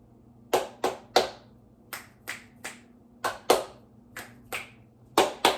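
A series of sharp, close finger snaps and claps, about a dozen crisp hits in an uneven rhythm over quiet background.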